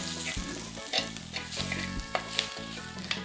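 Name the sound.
spices frying and being stirred in pan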